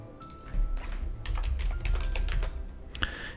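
Computer keyboard typing as a command is entered in Windows PowerShell on Windows 11: a quick run of close clicking keystrokes over a low background hum, ending with a firmer tap.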